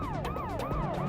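Wailing ambulance siren in a police chase video game, rapid rising and falling sweeps repeating over engine rumble, loud and close with no talk.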